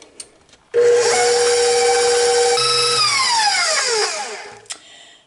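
A power tool mixes pumpkin bread batter, a loud steady motor whine with bright harmonic tones that starts abruptly, holds for about three seconds, then drops in pitch as it winds down, followed by a short clatter.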